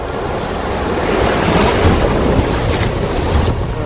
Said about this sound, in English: The waves keeps on getting stronger.